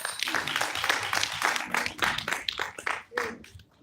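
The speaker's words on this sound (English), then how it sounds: "give a round of applause to Chennai" Audience at a tourism and hospitality industry event applauds, a busy stretch of overlapping claps at moderate loudness that fades out near the end.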